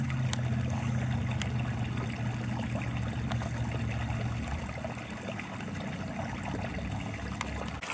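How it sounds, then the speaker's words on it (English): A small waterfall in a stream behind Pineview rushes and splashes in a steady, unbroken wash, close and fairly even throughout. "Coming to a little waterfall."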